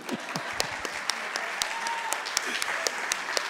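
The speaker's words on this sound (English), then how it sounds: "applause." Audience applause at a Baltimore community event on reflection and progress, a dense steady patter of many hands clapping at moderate distance, with a voice faintly audible under it.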